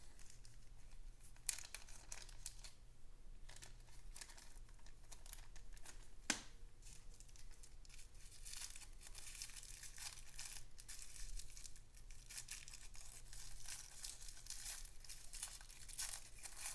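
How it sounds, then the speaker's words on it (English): Faint crinkling and tearing of packaging as a Bigsby vibrato spring is unwrapped while installing a Bigsby on a Gretsch guitar, steady rustling with one sharp crunch partway through, no talking. "then you're going to unwrap your spring"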